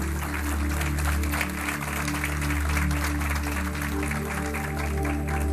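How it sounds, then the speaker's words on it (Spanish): Congregation applause in a church, a steady wash of clapping that fills the space evenly from start to finish, with sustained low tones from music or an organ underneath. "quiero que le demos un aplauso al Señor"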